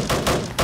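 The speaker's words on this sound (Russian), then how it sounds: "Вы посмотрите, как он стреляет" A military ship fires its guns in the Roblox game Military Tycoon, with three rapid, loud, booming bursts packed into under a second, dense and noisy.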